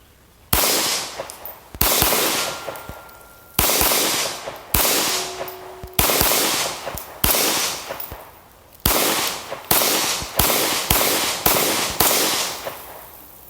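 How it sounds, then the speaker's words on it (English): Sharp pistol shots from a Sig fired at 11 gauge steel plate outdoors on a ranch, about a dozen loud cracks in an uneven string, each with a ringing metallic tail, some pairs fired close together. "Let's try shooting a piece of 11 gauge"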